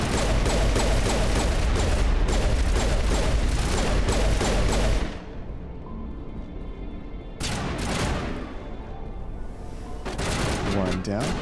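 Dense automatic gunfire in the video game Mass Effect Legendary Edition rattles loudly in rapid bursts, pauses briefly, then resumes in shorter volleys, with a voice speaking over parts of the fighting.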